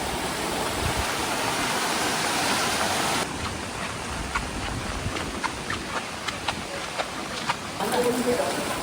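Floodwater rushes around a village during a heavy monsoon flood, a loud, continuous roar of churning water close by, with voices talking faintly underneath.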